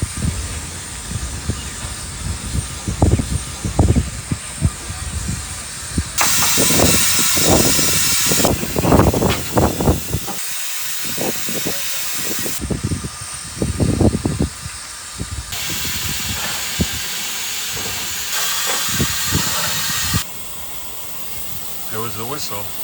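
Steam locomotive at the station in Pitlochry, its fire being stoked, releasing loud bursts of hissing steam over a steady mechanical rumble, with people talking nearby throughout.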